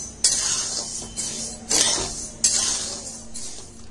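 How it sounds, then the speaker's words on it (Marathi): A metal spoon scraping and clinking in a pan as rice grains are stirred from the bottom while dry-roasting for bhajani flour, with a handful of distinct scrapes over a steady low hum. "आणि प्रत्येक वेळी प्रत्येक धान्य तळापासून ढवळायचे"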